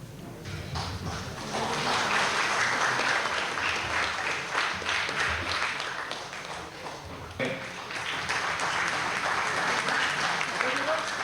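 Warm applause fills a stage welcome for guests at an Eid-e-Milad celebration held by Solapur railway employees, with dense clapping running continuously from start to end and voices mixed in.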